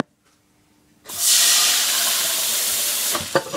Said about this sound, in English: I like it when the tap cold water goes onto the frying pan after it's been a little hot.